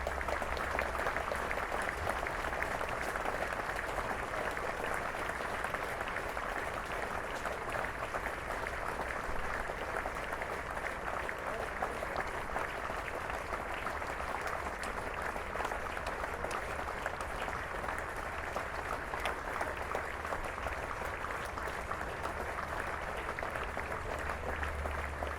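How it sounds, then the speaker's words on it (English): A football stadium crowd at a National League North match between Leamington and Peterborough Sports holds a minute's applause, producing sustained distant clapping that stays constant and fairly faint throughout, with no talk. "Minute's applause fantastically observed around the stadium as well"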